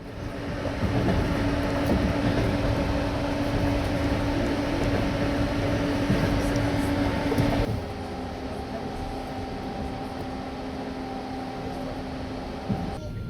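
A passenger train travelling from Russia toward Finland rolls along the rails with a steady rumbling roar and humming tones. The noise drops partway through to a quieter, smoother run, heard from inside the carriage.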